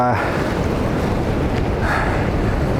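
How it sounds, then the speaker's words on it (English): Ocean waves rolling in at night near the rocky Eagles Nest coast at Inverloch as the tide goes out, giving a continuous loud wash of surf with wind buffeting the microphone. "There's the tide, although it's going out, there's still waves coming in here."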